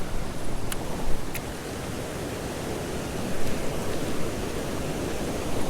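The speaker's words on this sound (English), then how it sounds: "I'm right next to a spillway." Steady, dense roar of rushing water fills the whole clip, broad and constant with no pauses, close by and loud.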